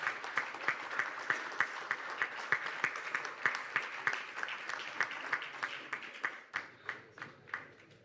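Audience applauding at a CRITICON 2025 conference event: steady crowd clapping for several seconds, thinning toward the end into a few separate claps.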